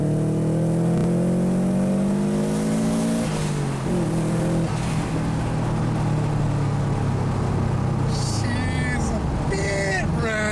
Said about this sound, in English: we'll be back once the car's running and we can see how shitty the idle is